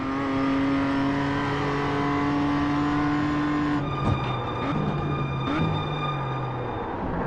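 A BMW M2 CSR races around Laguna Seca in iRacing, its engine holding a steady high drone before dropping and shifting through lower revs as it brakes and accelerates, continuous and fairly loud with no talk.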